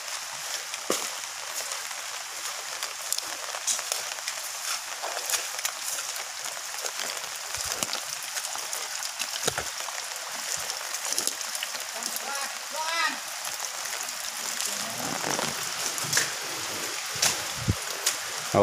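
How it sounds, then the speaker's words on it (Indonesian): Continuous rainfall hissing through forest foliage with scattered drips, while people speak intermittently over it. "Hujan."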